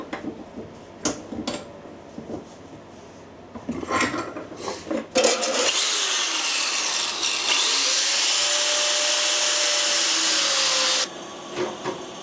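A thin 0.8 mm cutting disc on an angle grinder shrieks through metal in a workshop: some handling knocks and a spin-up, then a loud sustained high-pitched cut lasting several seconds before it winds down.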